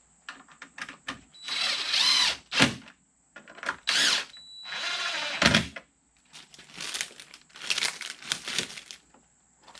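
Cordless power tool driving a 10mm bolt into a Ford F150 headlight mount, several short whirring bursts separated by pauses and rattling clicks, close and fairly loud with no talking.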